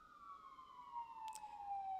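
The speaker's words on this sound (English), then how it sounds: "here comes the first siren of the day" An emergency siren passes outside, a steady wailing tone sliding slowly downward in pitch as it moves by, faint and distant over a quiet room background.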